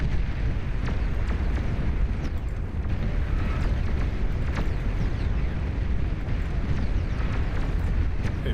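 A nuclear missile launches in the real-time strategy game Beyond All Reason, a loud, sustained rumbling roar with crackling bursts that holds steady for several seconds.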